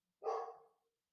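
A single clear dog bark, close and fairly loud, fading out quickly in an otherwise quiet room.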